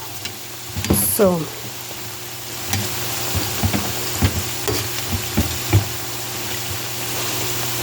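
Green banana slices frying in hot oil, with a steady sizzle and crackle throughout and some soft clinks of a utensil; a voice speaks briefly.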